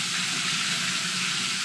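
Chili and sweet-sour spicy seasoning stir-frying for nasi goreng, a loud, dense hiss of sizzling oil that continues without a break through the short stretch.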